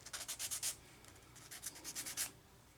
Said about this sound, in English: they could stand to have a little bit of sanding done on them